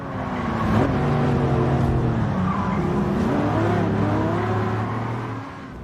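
A race car in Gran Turismo 7 drives hard and loud, its engine droning and shifting pitch as it accelerates, with tire squeal sliding through the corners.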